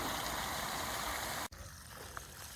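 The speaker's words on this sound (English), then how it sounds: "most of the water the spring's putting out is going to be coming out that pipe" Spring water pours steadily out of a pond drain pipe into a creek, a constant rushing flow that cuts off abruptly midway and resumes slightly quieter.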